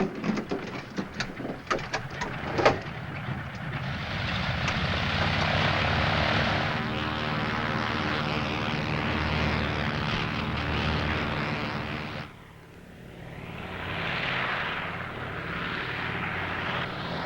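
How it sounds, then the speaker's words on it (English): A propeller airplane in a 1951 film, its engine drone building after a few sharp knocks and holding loud and steady, dipping briefly before swelling again. "Would you like to make your airplane fly now?"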